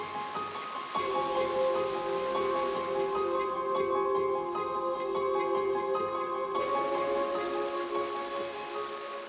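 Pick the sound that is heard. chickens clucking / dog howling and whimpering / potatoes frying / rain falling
rain falling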